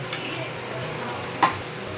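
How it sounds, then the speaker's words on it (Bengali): Poha with fried peanuts and ghee is stirred in a pan over a gas flame, giving a soft, close scraping and light sizzle, with one sharper knock of the spoon near the end. "আমি এবার বাদাম ভাজাটা মিশিয়ে দিচ্ছি"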